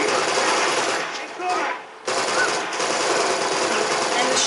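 Sustained M4 rifle fire in the video game Uncharted 2, loud and continuous with rapid bursts, briefly dipping midway before resuming at full intensity.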